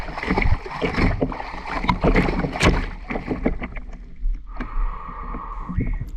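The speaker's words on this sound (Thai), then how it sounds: "ผมใช้วิธีตีน้ำเรียกปลา" Hands slapping the surface of a reservoir to draw fish, a run of splashy irregular water hits up close, ending in a quieter stretch with a sustained tone.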